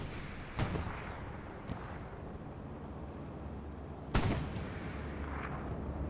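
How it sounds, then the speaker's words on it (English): Heavy explosions from a bombing run over a church in a WWII video game: a few separate booming blasts, with the loudest one near the end, rolling out over a steady low background rumble. "Bombing run over the church."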